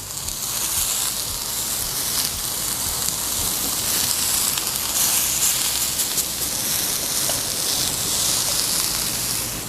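Aubergine patties for a vegan eggplant burger shallow frying in a pan over a high flame, a steady loud broadband sizzle and spatter running unbroken throughout with no voices.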